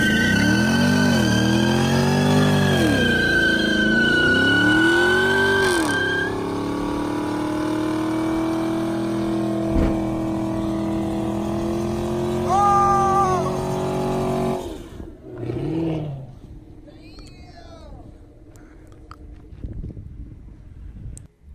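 A Chevy Camaro SS lays down a smoky tire burnout at a burnout competition: a loud, sustained high-revving engine whine with screeching tires, shifting pitch, then breaking into rougher, choppier revs toward the end.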